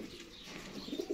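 A Litti pigeon coos softly in a short, low, throaty murmur, faint and close by.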